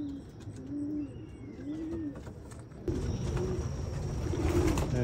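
Several racing and roller pigeons coo steadily in a stock loft, a row of soft, rolling calls close by, with a busier stretch of overlapping cooing and rustling in the second half.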